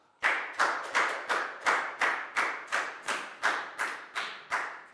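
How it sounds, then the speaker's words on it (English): Classroom applause for a pupil during a Year 4 maths lesson: about a dozen sharp, evenly spaced hand claps, close and fairly loud, with no talking. "Big round of applause for Chu, please, guys."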